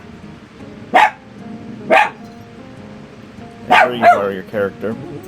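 A dog barks nearby in a few sharp, separate bursts, with a quicker cluster of barks near the end, behind a person talking over a game's menu screens.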